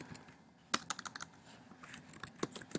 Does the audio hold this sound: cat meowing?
no